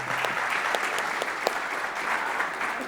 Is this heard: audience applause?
yes